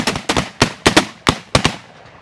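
Muzzleloader shotguns at a November pheasant shoot are fired off in a ragged volley to empty them: about nine loud outdoor bangs, some in quick pairs, each trailing a short echo.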